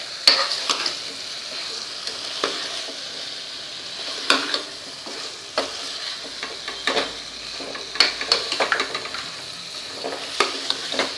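Vegetables for drumstick curry sauté in a pan over low gas, with a constant soft sizzle and scattered scraping clicks from a spatula stirring them.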